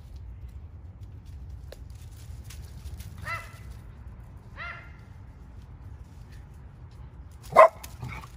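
A few distant barks from a small dog on a balcony, sparse and widely spaced, with one louder yelp near the end over a low outdoor rumble.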